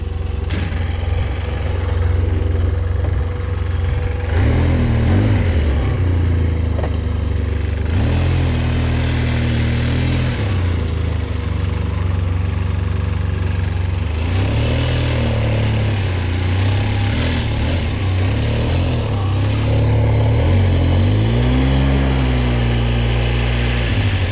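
A Polaris engine runs with some vibration, a loud, close idle that rises in several throttle blips and settles back, with a steady rumble throughout.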